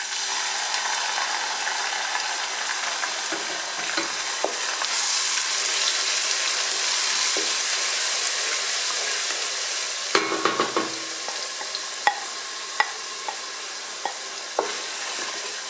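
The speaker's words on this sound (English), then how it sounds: "And now goes in my blended onions" Blended onions for Ghanaian waakye stew fry in a pot, a loud steady hissing sizzle close up with occasional scraping clicks and sharper bursts partway through, no voices.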